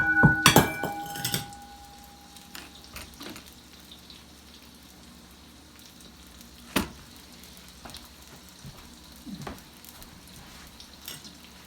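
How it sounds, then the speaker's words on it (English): A bowl falls and strikes a kitchen floor with a sharp, ringing clatter at the start. Faint sizzling, scattered clicks and one more knock follow in a quiet kitchen. "The bowl hit the floor."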